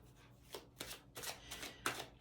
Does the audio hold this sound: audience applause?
no